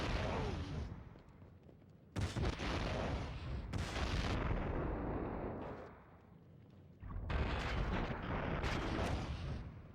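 Gunfire aimed at an agent in The Matrix: Path of Neo, a dense roar of sustained shooting in loud bursts broken by brief quieter gaps, continuous and close.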